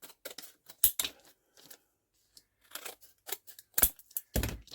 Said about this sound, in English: I'm going to cut around that one